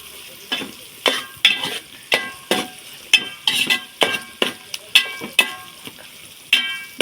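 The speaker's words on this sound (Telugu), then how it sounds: "ఆనియన్స్ పచ్చి వాసన పోయేంత వరకు ఫ్రై చేసుకోవాలి" Onions fry in a pan for a flat bean curry while a spoon stirs them in regular scraping strokes, each sweep bringing a short burst of sizzling over a faint constant hiss, close and clear with no talking.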